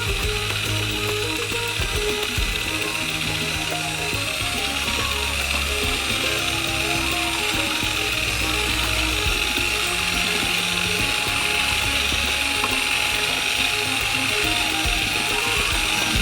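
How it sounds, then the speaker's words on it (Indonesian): An electric mixer beats Nutella Go batter with a loud, steady motor whir and rattling, gear-like buzz that runs without a break, close to the listener, with background music underneath. "sambil mencampurnya dengan mixer."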